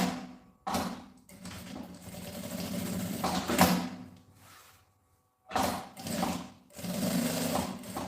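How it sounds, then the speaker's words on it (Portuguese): Sewing machine stitching a backpack, running in several close, steady whirring bursts separated by short pauses, with a brief silent stop before the stitching resumes. "Continua costurando aqui."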